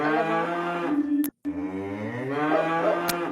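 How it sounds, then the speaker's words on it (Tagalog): A water buffalo (carabao) on a farm lows in long, deep, drawn-out moans, close and loud, with a brief cutout between calls and a second lowing call following. "Ang daming baka. Baka ba yun? Kalabaw."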